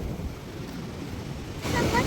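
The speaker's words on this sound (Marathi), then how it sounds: "तुम्ही बघू शकता किती पाणी आले वड्याला" A flooded village stream, high enough to submerge a bridge, rushes past in a steady, fairly quiet wash of water noise, with a voice briefly audible near the end.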